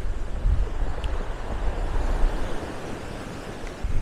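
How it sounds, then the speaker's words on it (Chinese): A small waterfall on the Noto Peninsula coast flows out of the mountainside straight into the sea, heard as a constant broad rush of water mixed with gusting wind and surf, loud and close with no voices. "它是少数的从山体里流出，直接注入到大海的瀑布。"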